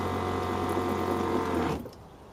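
Water runs steadily from a ceramic-disc mixer tap in a 2005 Nissan Patrol camper wagon, fed by a pump from a water drum, a loud close hiss and pump hum that cuts off abruptly near the end.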